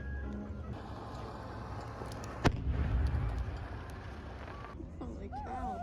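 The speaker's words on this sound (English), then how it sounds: "This fireworks show is so awesome." A professional pyrotechnics fireworks show at Lake Havasu: one sharp, loud burst rings out, then a rolling rumble that trails off under a murmur of nearby voices.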